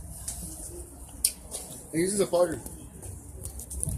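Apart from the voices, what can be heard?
bird cooing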